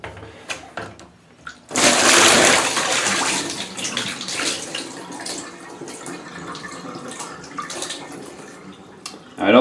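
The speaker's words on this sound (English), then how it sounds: "let's go ahead and submerge this thing underwater for 10 seconds and see what happens" A metal ammo can is pushed under water in a filled tub, with a sudden loud rush and churning splash that settles into softer sloshing and gurgling, a final splash at the end.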